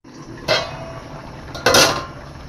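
A lid is set onto a cooking pot of bulanglang vegetable stew with pumpkin, giving two close metallic clanks about a second apart with a quiet hush between.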